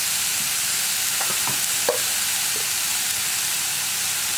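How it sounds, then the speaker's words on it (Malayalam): Carrot thoran is stirred in a frying pan: a constant hissing sizzle with a few soft spoon scrapes and taps close by, and no one talking. "ഇനി നന്നായിട്ട് ഇളക്കി കൊടുക്കുക."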